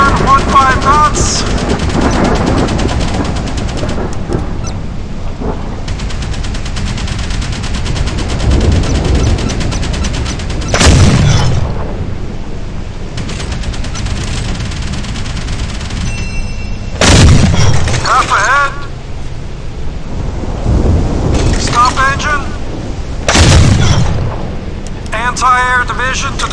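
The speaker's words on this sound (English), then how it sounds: "Battle stations gun action. Deck gun standby." Warship deck gun firing in the naval combat game Modern Warships: heavy booming salvos with rattling bursts land at spaced intervals over steady engine and battle rumble, with voice commands spoken in between.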